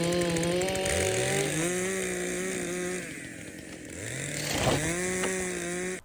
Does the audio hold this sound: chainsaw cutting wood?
yes